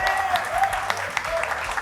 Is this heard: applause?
yes